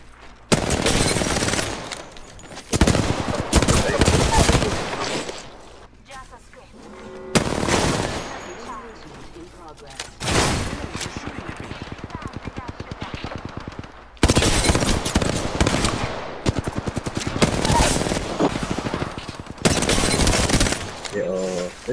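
Dense bursts of gunfire from Apex Legends, repeated fusillades and machine-gun volleys coming in loud clusters with brief lulls between them across the whole stretch.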